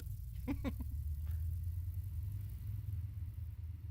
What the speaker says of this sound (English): And there's the car-sounding helicopter.